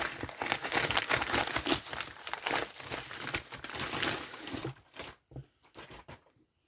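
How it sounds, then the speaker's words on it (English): Subscription box packaging rustles and crinkles loudly and continuously up close, then thins into a few scattered crackles toward the end. "Again, cue lots of rustling."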